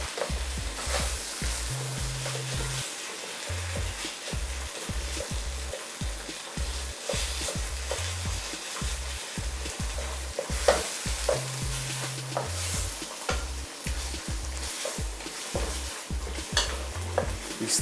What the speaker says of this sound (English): You should also use your wooden spoon to mash the tomatoes easily, slowly, for them to remove also the juices.